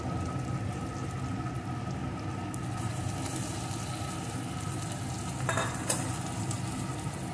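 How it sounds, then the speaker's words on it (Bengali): Marinated prawns fry in a pan with a masala of tomato, giving a steady sizzle and crackle, with stirring scrapes and a few sharper spatters toward the end. "এখন এর ভিতরে ম্যারিনেট করা চিংড়ি মাছগুলোকে দিয়ে দেবো।"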